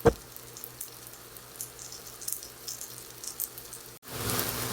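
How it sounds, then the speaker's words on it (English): Carrots sautéing in a pan with garlic, a faint, steady sizzle under light clatter and crackle near the pan, with a louder burst of frying hiss in the final moments. "I want to go ahead and add my carrots. And saute them up for a few minutes."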